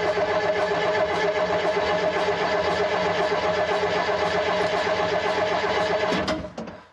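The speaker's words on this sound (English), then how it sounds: "So you can hear it's cranking well." A Perkins diesel engine cranks steadily on the starter without catching, a loud, even, rhythmic churning that runs almost the whole time and then cuts off near the end.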